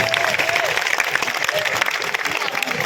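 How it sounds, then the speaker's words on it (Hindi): Loud audience clapping at a Hindu devotional night jagran for Maa Bhagwati, dense and steady throughout with some crowd noise and faint voices or tones mixed in. "भाई आनंद आया हो तो एक बार जोरदार तालियां"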